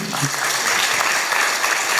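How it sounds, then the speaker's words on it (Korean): Audience clapping for a political speaker rises at once into a steady, close burst of applause with a few voices mixed in, lasting a couple of seconds. "박수 주세요"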